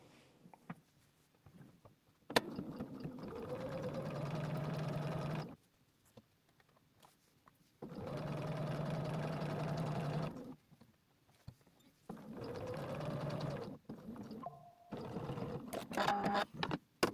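A sewing machine stitches two welt lines for a pocket in three steady whirring runs of a few seconds each, separated by quiet pauses, with small clicks and handling noises at the end.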